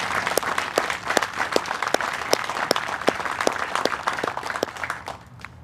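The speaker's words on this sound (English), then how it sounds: "Let's give a big round of applause to this candidate for their outstanding accomplishment." An audience at a military officer candidate graduation ceremony claps in a sustained round of applause, crisp individual claps standing out over the crowd before it tapers off at the end.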